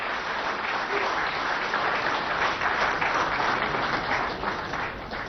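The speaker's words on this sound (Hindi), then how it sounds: "जोरदार तालियां शहीद भूदेव कुमार जी के लिए" Sustained applause from a ceremony audience honouring martyred Gautam Buddh Nagar constable Bhudev Kumar at an awards event, a dense steady wash of many hands clapping throughout without a break.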